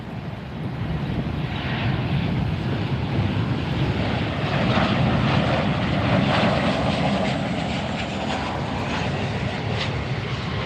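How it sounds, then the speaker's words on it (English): A WestJet Boeing 737-8 jet arriving from Toronto at Fort Lauderdale roars past, swelling loud and then easing off against steady wind noise, with no voices. "we've got a WestJet coming in, a 737-8 coming in from Toronto"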